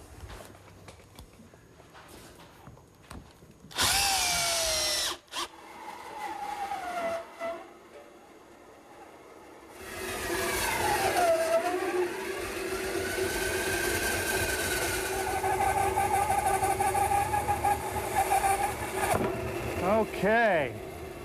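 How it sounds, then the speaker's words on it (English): A bandsaw cuts out a plywood blank for a garden gate. The motor hum builds into a steady, loud cutting roar with shifting whining tones that runs for about ten seconds, after an earlier short burst of noise and brief voice. "Then we'll cut it out at the bandsaw."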